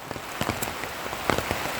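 Heavy rain pours down in a forest during a mushroom-foraging outing, a steady close hiss with scattered louder drops spattering on surfaces.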